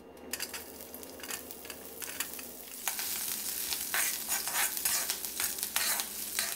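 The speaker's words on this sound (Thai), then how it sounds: "ผัดหอมหัวใหญ่ของเราให้แตกกลิ่นหอมเลยครับ" About 50 grams of diced onion stir-fries in a little vegetable oil in a pan, a steady sizzle that swells louder partway through, with close spatula scrapes and clicks.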